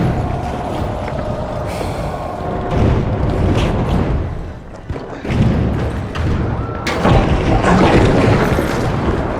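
Frag grenade explosions in The Finals, heavy booming thuds amid loud, chaotic game action with continuous crashing and rumbling throughout.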